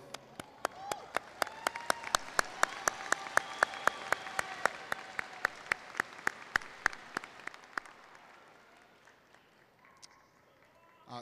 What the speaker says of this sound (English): you can all just applaud for your graduate.